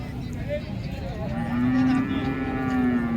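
Cattle low nearby at the Modnimb cattle market, a drawn-out moo rising and holding over a murmur of outdoor background noise.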